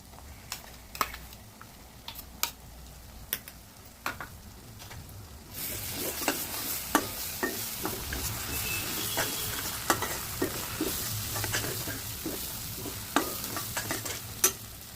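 Masala paste sizzles and fries in a pan while a spoon scrapes and taps against it in frequent stirring strokes, the sizzle growing louder after the paste is added partway through.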